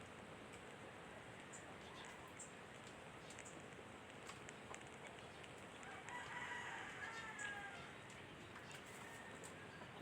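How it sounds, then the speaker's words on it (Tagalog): Chickens at a rural home crowing and clucking at a distance, fairly faint over a steady background hiss, with a rooster crow rising for a few seconds partway through. "Ang ingay ng mga manok guys."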